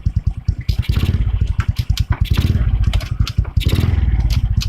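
A Honda Wave 125 motorcycle engine idles in neutral close by, a rapid, uneven put-put pulse with metallic clatter and a few slight revs.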